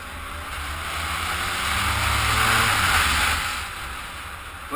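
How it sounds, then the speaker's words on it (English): A Honda VFR1200 V4 motorcycle engine lets off the throttle, a steady low rumble under a loud rush of wind that swells in the middle and then eases back, with no talking. "It makes a truly lovely sound when you come off the throttle, almost like a dump valve on a turbo."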